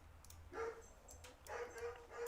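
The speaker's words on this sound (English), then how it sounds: "The dogs are going crazy. It's like they have a schedule to bark." Dogs barking in short bursts, several yaps and whimpery barks at a moderate distance, repeating roughly every second over a low background hum.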